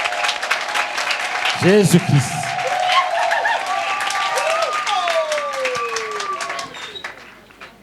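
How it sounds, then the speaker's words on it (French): A crowd applauds and cheers at a regional religious convention in Daoukro, with steady clapping under a speaker's amplified voice and long sung or shouted tones ringing over it before the noise fades. "Acclamons maintenant."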